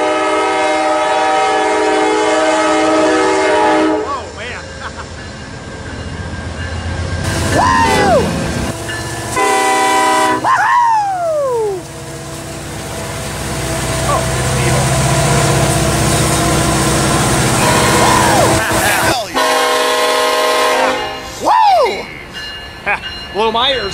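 A freight train at Commerce, Hobart sounds loud, sustained horn blasts in several bursts over a deep rumble of engines and wagons rolling past close by, while people talk nearby between the blasts.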